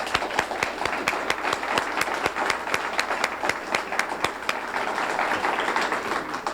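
An audience at a 1988 civic service awards ceremony claps steadily, with sharp individual claps standing out from the sustained applause at moderate distance.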